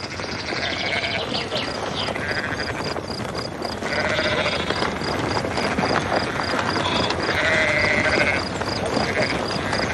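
Sheep bleating repeatedly over a steady outdoor background, with several overlapping calls of moderate loudness and occasional bird chirps; no speech.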